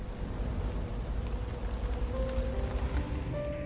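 Steady rain falls on a surface in a Thai horror film, a dense, even patter holding at constant loudness with no talk over it.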